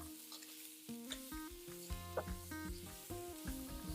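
Ginger and garlic fry in a pot of oil for a South African pork potjie, giving a steady close sizzle with some stirring and scraping throughout and no talk.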